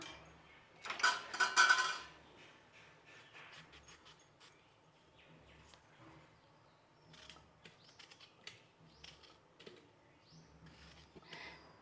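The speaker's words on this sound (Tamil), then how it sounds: "ரெண்டு தக்காளி எடுத்துருக்கிறேன் இதையும் நறுக்கி போட்டுக்கலாம்" A knife taps against a cutting board in quick, uneven bursts while finely chopping tomatoes for rasam, with a louder clatter of utensils near the start.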